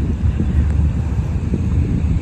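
Strong wind blows at night across Luneta Park in Manila, a constant low rumbling buffet against the microphone with no clear voices.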